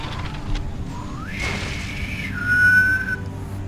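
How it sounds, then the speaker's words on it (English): A whistle sounds in an Assassin's Creed III naval battle: a rising tone that holds steady, then a sharper, higher pitch, all over a constant low rumble of sea and ship ambience. "Isn't that one of the whistles that they use?"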